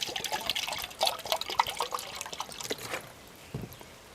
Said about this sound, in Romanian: acum mai pun 500 de mililitri de apă